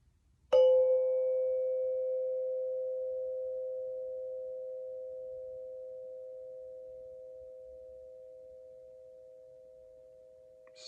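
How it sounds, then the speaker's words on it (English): One clean strike of a meditation bell, a pure sustained tone that rings out alone and fades very slowly over about ten seconds in near silence. "Stay with the sound of the bell from the beginning to the end."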